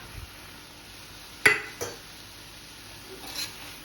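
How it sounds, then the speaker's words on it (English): Chopped brinjal, potato and dry shrimp tipped into a pan and stirred, with a couple of clear clinks and scrapes of utensil on metal over a quiet background. "I'm going to add my brinjal, which I've chopped into small pieces. I'm also going to add the potato, and I'm going to add the shrimp."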